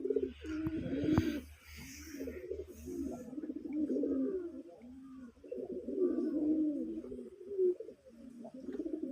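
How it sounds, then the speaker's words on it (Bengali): Desi colored pigeons kept for sale coo in soft, repeated rolling phrases close to the microphone, overlapping one another in a quiet, steady chorus. "অনেক অনেক হাই কোয়ালিটির কবুতর দেখেন অনেক বোল্টেজ পাওয়ারফুল কবুতর"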